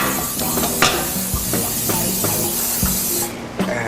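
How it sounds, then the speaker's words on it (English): Butter spray is hissed from an aerosol can onto cake pans in a kitchen, a continuous close spray lasting a few seconds with light clicks and pan knocks mixed in. "I'm just gonna spray them with some"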